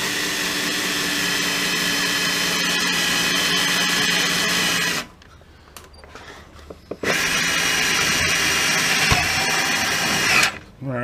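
Power driver spinning self-tapping screws into the back corner of a Toyota Prius, a loud steady high-pitched whine for about five seconds, a short quiet gap, then another long run of driving that stops near the end.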